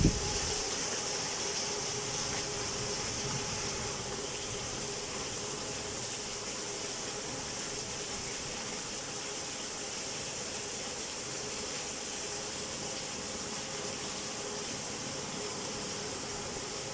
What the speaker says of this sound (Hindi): ये देखेंगे बारिश इस्लामाबाद का बहुत ही अच्छा मौसम हुआ है।